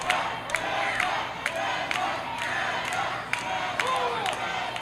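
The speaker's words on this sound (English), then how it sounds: "And here this crowd firmly behind Tessa Blanchard." Wrestling crowd cheering and chanting for Tessa Blanchard during a women's match, a continuous roar of voices punctuated by sharp periodic thuds or claps, with a commentator talking over it.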